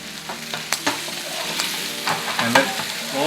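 Garlic prawns with a squeeze of lemon fry in a pan, a steady close sizzle broken by repeated spatula scrapes and clacks as they are stirred.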